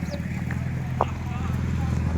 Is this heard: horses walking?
yes